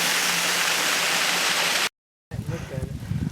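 An 80-foot waterfall on a wilderness mountain trail roars as a dense, steady rush that cuts off abruptly, followed by a quieter stretch with someone speaking.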